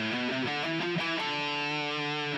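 An electric guitar with a distorted tone plays a short melodic alternate-picked line of quick, even single notes ending on a sustained note, loud and alone.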